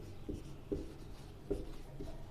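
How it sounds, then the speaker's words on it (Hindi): Chalk or marker taps and strokes on a board while solving a maths problem, a few short scratchy marks spaced in an irregular rhythm over faint room noise. "तो मैं यहाँ लिखता हूँ"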